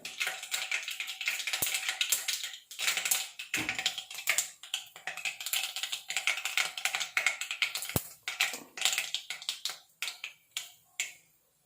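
Mustard seeds spluttering in hot oil in a pan, a dense, steady run of sharp crackles and pops, close and loud, sometimes thinning then surging again.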